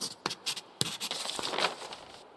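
Charcoal scratching across paper as a map is sketched in The Long Dark, a series of short, dry scrapes and strokes that merge into a steadier rasp, close and fairly quiet with no talk.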